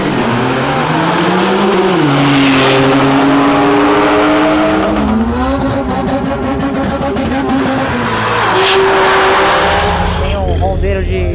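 A 750-horsepower Porsche accelerating hard, its engine roaring loud and close with rising and falling revs through gear changes and a high whine, while people talk over it.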